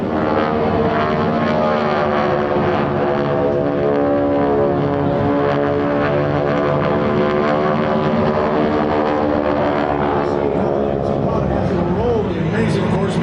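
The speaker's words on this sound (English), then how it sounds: "The C-47 lifting off, ladies and gentlemen." A C-47 twin-engine propeller warbird lifting off at the Andrews AFB airshow 2025, a loud steady droning engine roar that holds throughout with a shifting pitch, with an announcer talking over it.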